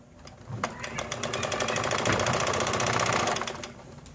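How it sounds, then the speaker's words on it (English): Necchi sewing machine fitted with a Necchi or Elna monograph attachment, stitching embroidery in a steady fast rhythmic run that builds to a loud clatter near the machine and then stops. "Okay, now I'm going to continue."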